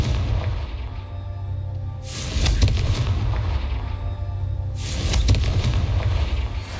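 A Confringo fire spell explodes in Hogwarts Legacy, two heavy booming blasts a few seconds apart, each a loud rumbling burst that decays slowly over a low background.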